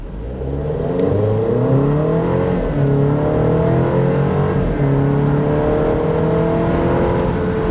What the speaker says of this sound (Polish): Samochód w taki sposób przyspiesza od 0 do setki.